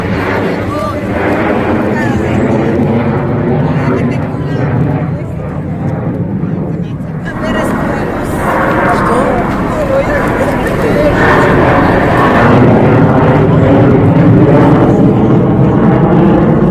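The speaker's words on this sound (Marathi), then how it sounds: "मला कॅमेरा बाहेर काढून वरून जाणारी लढाऊ विमाने दाखवायची होती तुम्हाला." Fighter jets roaring overhead during an outdoor picnic by a stream, a loud, continuous broadband rumble that swells toward the end, with a voice talking over it.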